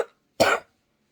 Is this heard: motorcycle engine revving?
no